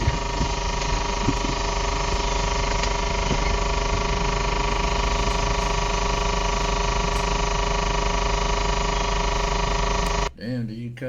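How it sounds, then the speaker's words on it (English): A semi-truck's engine idles steadily close by, a constant dense rumble with a few creaks, running nearly the whole time before cutting out abruptly near the end. "did you cut the truck off? Cause it sounds like it's still on."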